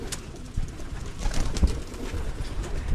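Pigeons cooing close by in a loft during cleaning, several soft throaty coos overlapping in a steady murmur, with light rustling and no voices.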